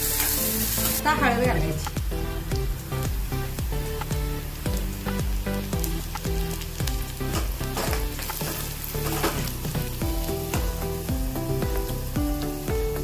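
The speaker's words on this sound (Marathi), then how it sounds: "एक कांदा घेतला छोटा, चांगला भाजून घ्यायचा।" Onion and turmeric frying in a pan for Maharashtrian radish bhaji, a steady sizzle running throughout under background music, with a voice speaking briefly.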